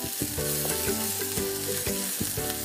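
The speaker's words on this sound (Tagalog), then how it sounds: "So naggigisa lang ako ng bawang at sibuyas at konting luya." Garlic, onion and a little ginger sauté in a hot pan, making a loud, continuous sizzle with stirring. Background music plays underneath.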